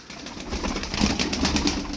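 A pigeon coos softly and briefly up close, with some rustling and background noise.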